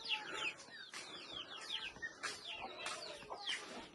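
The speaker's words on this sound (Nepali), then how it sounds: "कुखुराहरू हेर्नु न कुखुराहरू मात्र आमा" Chickens cluck and squawk in a series of short bursts, fairly close and moderately loud, over a soft outdoor background with no talking.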